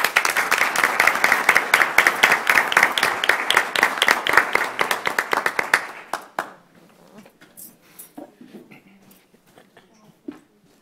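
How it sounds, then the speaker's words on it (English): Students get a burst of audience applause at a school board meeting, dense clapping for about six seconds before it breaks into a few scattered claps and faint room noise. "So let's give them a round of applause"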